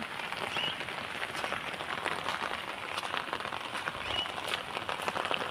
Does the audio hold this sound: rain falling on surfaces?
yes